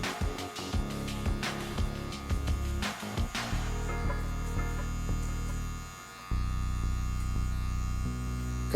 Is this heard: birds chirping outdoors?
no